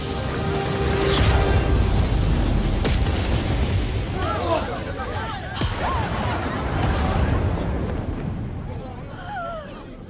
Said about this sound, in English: she takes it upon herself to carry Miles to the sky so that he can perform his explosion